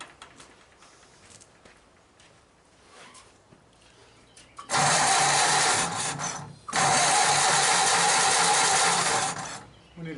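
A 1929 Whippet car engine, flooded and failing to fire, cranks loudly in two long bursts after a quiet stretch, with a brief pause between them; the grinding starter churns without catching.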